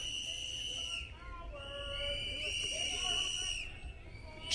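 Enemies in Fallout 76 blow sustained, high-pitched whistles that overlap and shift slightly in pitch, piercing above a rough background rumble.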